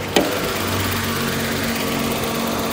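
A small car engine idles steadily, either a 2009 Chevrolet Spark or a 2003 Daewoo Matiz, a constant close hum after a sharp click at the start.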